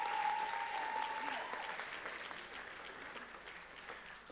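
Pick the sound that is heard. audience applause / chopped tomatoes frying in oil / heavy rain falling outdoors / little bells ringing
audience applause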